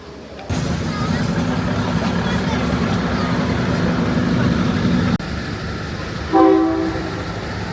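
A train on a day trip from Bangkok to Ayutthaya: loud, steady rail rumble fills most of the stretch, drops off abruptly, then a tonal horn-like blast sounds near the end.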